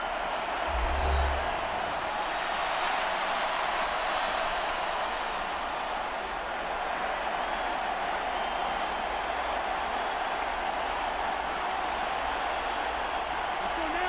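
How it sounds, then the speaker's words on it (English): Steady roar of a large stadium crowd in the video game Madden NFL 25 during a Lions vs Packers game, broad and continuous, swelling slightly with distant cheers and applause throughout. "A big play here as the crowd noise rises."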